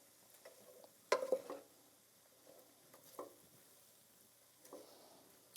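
Cabbage and meat cook in a pan for an egg roll in a bowl, with a faint low sizzle and a louder stirring burst near the start, then softer occasional scrapes.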